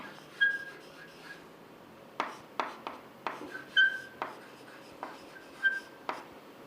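Marker or chalk writing on a board in a classroom lecture, a series of short scratchy strokes and squeaks in irregular bursts, close and clear with no talking.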